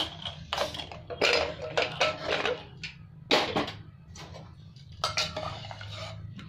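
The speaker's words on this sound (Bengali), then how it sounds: "এবার আমি খুলে দেখছি কুকারটা।" A pressure cooker of cooked dal is opened, with metallic clanks and clattering of the lid and utensils against the pot in several close, sharp bursts separated by short pauses.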